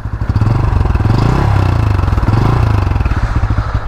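Bajaj Pulsar N160 motorcycle, its frame caked in mud, revs its exhaust in a steady, loud, throbbing run of pulses that swell and ease over a few seconds, heard close and alone.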